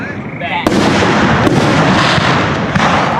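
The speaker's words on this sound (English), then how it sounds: "So there was some fireworks that had a smiley face and a heart." Fireworks bursting at a 4th of July party: a sharp bang followed by sustained crackling and a few more pops, close and loud, with voices mixed in.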